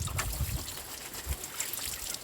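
A small cloth used for straining drinking water is washed under running water, a steady splashing trickle and rushing flow heard close up with occasional sloshing bursts and no talk.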